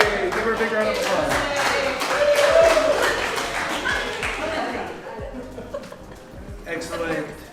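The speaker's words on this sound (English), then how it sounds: "Give her a big round of applause." An audience at a magic show claps and chuckles for a volunteer, a steady patter of applause with scattered laughter that eases off toward the end, and a voice speaking over it.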